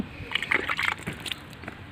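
Water is sprinkled by hand over freshly planted sugarcane cuttings in a garden, giving a cluster of close, soft splashes and sloshes that fade into quieter drips.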